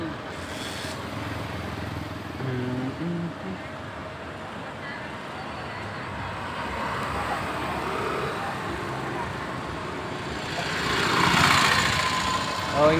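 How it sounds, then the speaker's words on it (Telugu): Heavy road traffic of bikes, cars and autorickshaws streaming past, a continuous engine drone and rumble of vehicles that swells louder near the end, with a voice talking over it. "వందల కొద్ది వస్తున్నాయి, వందలు బైకులు, కార్లు,"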